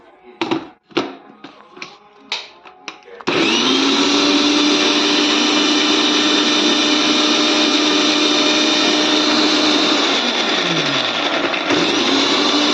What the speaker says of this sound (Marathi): आता आम्ही हा पालक मिक्सर मध्ये ग्राइंड करणार आहोत